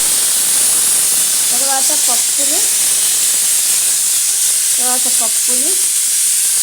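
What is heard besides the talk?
mixer grinder grinding cucumber chutney ingredients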